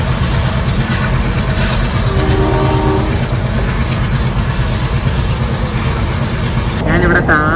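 A diesel train runs loudly with a continuous low rumble and rhythmic wheel clatter, and a horn sounds briefly partway through, with a second horn blast near the end.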